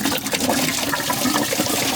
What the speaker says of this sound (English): it just kind of dribbles out of there, so quicker and easier is just disconnect that radiator hose